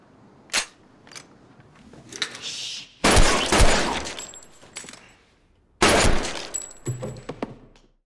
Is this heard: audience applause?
no